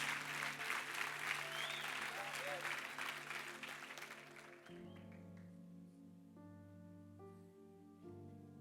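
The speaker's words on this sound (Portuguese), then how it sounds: "Se é para aplaudir, aplauda glorificando o nome do Senhor Jesus" A church congregation at an evening service applauds with a fading wash of claps that thins out after a few seconds, leaving sustained music and faint voices beneath it.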